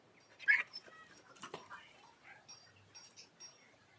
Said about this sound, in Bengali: পোষা কুকুর